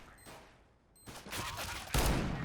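R8 Revolver shots fired in CS:GO during a bomb defuse, with a few sharp game gunshot bursts rising in loudness, the last one loudest, over faint background game noise.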